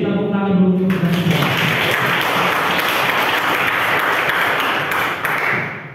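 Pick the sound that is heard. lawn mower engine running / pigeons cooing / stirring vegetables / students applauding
students applauding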